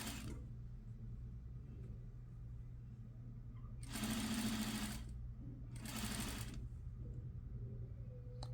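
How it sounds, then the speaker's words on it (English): A sewing machine back stitches a pocket side seam in two short, fairly quiet whirring bursts over a low steady hum. "and then I'll back stitch"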